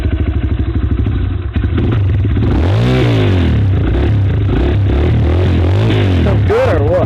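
A motorcycle engine runs close by, first idling with a fast throbbing beat, then revving repeatedly in rising and falling swells, loud and continuous.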